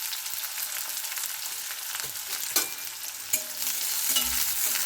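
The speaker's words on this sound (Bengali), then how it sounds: "এবার কেটে রাখা পেঁয়াজ কুচিগুলো দিয়ে দিচ্ছি। পেঁয়াজ কুচিগুলো আমি হালকা নেড়ে চেড়ে লাল করে নেব।" Chopped onions fry in hot oil after whole spices for a chicken dish, with a steady broadband sizzle throughout and a few sharp clinks of the spatula stirring them. No talk.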